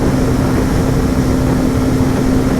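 A Hero Xtreme 125R motorcycle engine held at full throttle at high speed gives a loud, steady drone with a constant hum, mixed with broad wind rush that never lets up.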